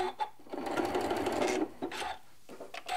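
Home sewing machine running a short burst of back stitches on a Christmas tree decoration, a close, steady whirring that stops briefly and starts again with a few short pulses.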